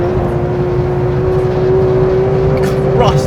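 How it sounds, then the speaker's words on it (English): A Porsche 911 GT3 engine runs hard on a track, a loud sustained tone holding steady with a short rising shift near the end, heard from close by over continuous road and wind roar. "Listen to that motor."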